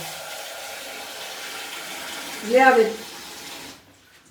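Tap water runs in a home kitchen during meal preparation, a steady close hiss that cuts off near the end while a voice speaks briefly over it.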